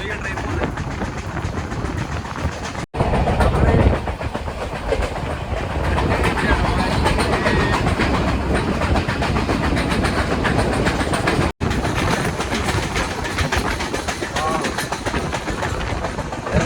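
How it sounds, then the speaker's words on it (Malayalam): Close, continuous rumble and clatter of a train running along the rails, loud and unbroken apart from two brief dropouts. "നമ്മളിവിടെ ഏതോ സ്ഥലത്ത് ട്രെയിൻ പിടിച്ചിട്ടിരിക്കുക"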